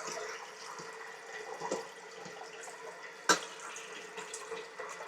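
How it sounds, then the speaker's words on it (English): Soaked, sea-salted cabbage gets a thorough rinse under running tap water, with a soft continuous splash and one sharp clatter near the middle. "I'm just going to give it a really, really good wash to get off all that sea salt"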